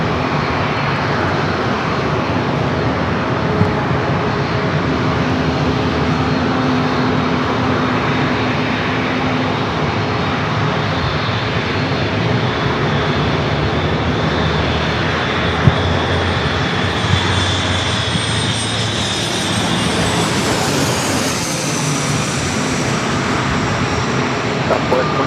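A Southwest Boeing 737 MAX 8 jet airliner at San Diego airport gives off a loud, sustained engine roar with heavy low rumble. A rising whine comes in near the end.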